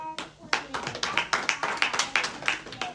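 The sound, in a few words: congregation acclaiming the Lord, clapping and cheering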